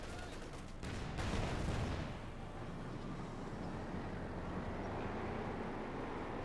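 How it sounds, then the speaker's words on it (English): Panzer tanks bombarding in Company of Heroes 2, a dense rolling barrage of booming impacts and gunfire with a swell early on, then a sustained rumbling wash, fairly quiet and distant. "There we go, getting bombarded by the two Panzer forces still."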